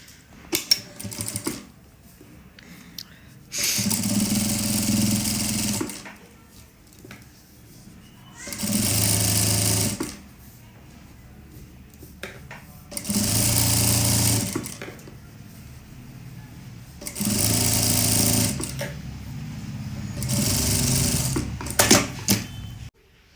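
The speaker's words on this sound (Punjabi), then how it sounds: "ਉਸ ਤੋਂ ਬਾਅਦ ਅਸੀਂ ਉੱਪਰ ਵਾਲੀ ਸਲਾਈ ਲਗਾ ਲੈਣੀ ਆ" An electric sewing machine stitches the folded hem of a velvet salwar cuff with buckram inside, running in four or five whirring bursts of several seconds each, separated by quiet pauses of handling.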